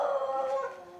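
Beagles next door howl in a sustained, wavering cry that stays loud and close, then fades slightly toward the end, with no talking over it.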